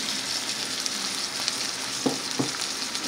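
Onion and green pepper fry in a pan for chicken fajitas, a steady close sizzle with a couple of soft clicks from stirring near the end.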